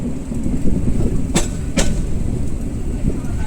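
The Tista train stands on line 1 of a railway station, bound for Dhaka, with a loud, steady low rumble and two sharp metallic clanks close together.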